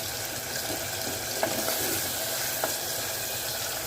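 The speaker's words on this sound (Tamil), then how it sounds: "நல்லா இந்த நல்லெண்ணெயில் காணுங்க. கொஞ்சம் நல்லா வதங்கி வரட்டும்." Tomatoes, onions, garlic, fenugreek, cumin and shallots sauté in sesame oil for a mango kuzhambu, giving a soft continuous sizzle with a few faint utensil clicks, no talking.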